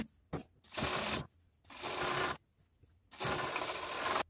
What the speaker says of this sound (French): on va à la machine et on utilise le point zigzag